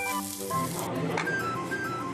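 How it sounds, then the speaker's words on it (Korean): Beef grilling at a Korean butcher-shop restaurant, a steady close crackling sizzle of meat on a hot grill with faint background clatter. "지글지글 구워지는 게 참 맛있어 보이네요."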